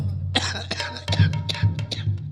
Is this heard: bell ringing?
no